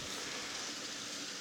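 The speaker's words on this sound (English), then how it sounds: "And it's rainy today." Steady rain falls outside a window on a stormy day in Crawfordsville, Indiana, a dense, even hiss that stays constant and fairly faint with no voices.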